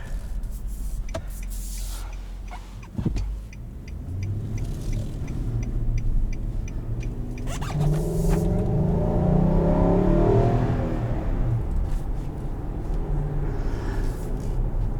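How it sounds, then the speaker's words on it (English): A 2020 Nissan Armada Platinum's engine intake roars as the SUV accelerates, a deep swelling growl building through the middle of the run and easing off toward the end, heard alone from inside the cabin. "The intake sounds that this thing makes, makes me want to buy one just to have that sound."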